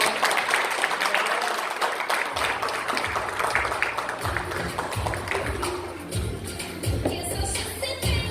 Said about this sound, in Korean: 보상플레이 강의해주신 코나 선생님께 다시 한번 큰 박수 부탁드릴게요